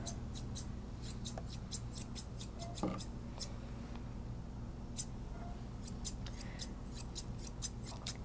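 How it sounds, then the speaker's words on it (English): Straight grooming scissors trim a dog's uneven coat in a series of quick, crisp snips, clustered in bursts with short pauses, close and fairly quiet over a steady low background hum. "straight scissors and just start trimming down"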